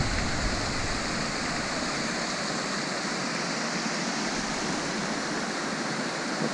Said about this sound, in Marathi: असं आपला धबधब्याचा व्ह्यू आहे मॉर्निंगचा.